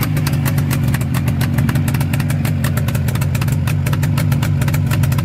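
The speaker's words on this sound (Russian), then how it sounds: "Глушители тихие, красиво работает." Jawa 638 motorcycle engine, bored four hundredths oversize, idling nearby with a rapid, even two-stroke putter through quiet mufflers, steady and loud throughout.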